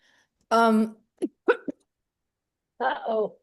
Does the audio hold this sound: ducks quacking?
no